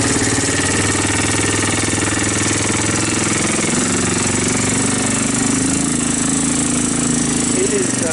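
A 1985 Honda TRX250 ATV with a stuck transmission runs on its first ride, its engine droning loud and close in a constant rumble throughout, with a voice talking over it.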